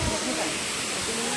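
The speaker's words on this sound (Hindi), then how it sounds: "झरना" Steady broadband rush of a small artificial waterfall in a doll museum display, set among model mountains beneath a statue of Mahadev, continuous and fairly loud throughout.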